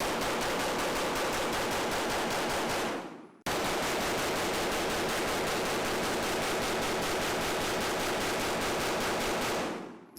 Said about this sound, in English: I think I can shoot it fast one-handed.